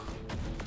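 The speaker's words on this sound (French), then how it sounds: "La mitrailleuse à plasma." Rapid bursts of plasma machine gun fire in the Terminator Dark Fate Defiance video game, two or three sharp volleys over a busy, dense battle background, short and fairly loud.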